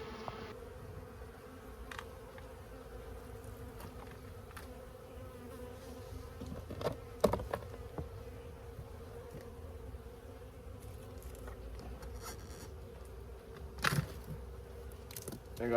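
Honeybees buzz in a faint, continuous drone around a colony being removed from a tire outdoors, with occasional soft knocks and handling noises.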